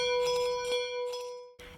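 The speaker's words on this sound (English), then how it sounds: "The only bell ringing Claire can do on her own is with a handbell" A handbell rings out with a clear sustained tone, struck a few times in quick succession and left to decay, followed by a short rustling noise at the end.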